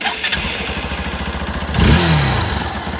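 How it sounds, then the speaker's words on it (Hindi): A 2020 Hero Xpulse 200 single-cylinder motorcycle engine cranks and catches, then settles into a loud, steady thumping exhaust idle close by. "so let's fire up the engine and listen to this exhaust sound"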